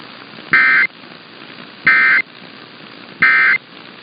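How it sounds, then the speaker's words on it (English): Three loud, evenly spaced electronic buzzer bursts, each about a third of a second long, from an Emergency Alert System test broadcast, heard alone over faint background hiss. "This concludes today's test of the Emergency Alert System."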